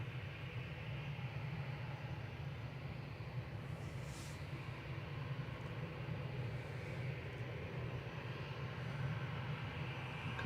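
Qatar Airways airliner at Manchester Airport, a steady, even jet engine roar that holds level from start to finish at a distance.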